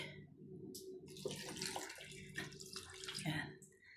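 Water splashes and pours from a tap into a blender for a squid dish with ginger, a short running flow under quiet speech in a kitchen.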